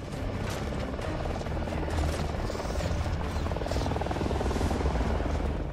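A helicopter in the video game Gears of War: Judgment, a dense, steady rotor roar that holds at an even loudness for the whole stretch, close and unbroken.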